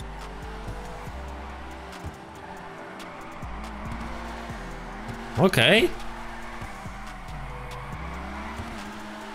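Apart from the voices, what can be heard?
car drifting with tire squeal in GTA Online video game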